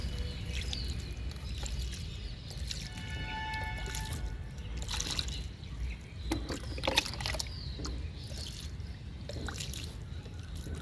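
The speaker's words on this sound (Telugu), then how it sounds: "వాటర్ ఇస్తున్నా." A potted plant being watered in a home garden, soft trickling and splashing of water into soil, with a few brief louder splashes and clinks over steady low background noise.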